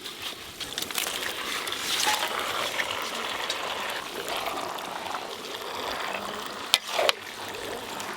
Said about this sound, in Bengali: এবার কেটে ধুয়ে রাখা মাংস দিয়ে দেবো।